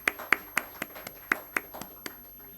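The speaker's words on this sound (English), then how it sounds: "Congratulations. A big round of applause." A small audience claps at a panel discussion. Around nine uneven, fairly close hand claps ring out over two seconds, with no voices.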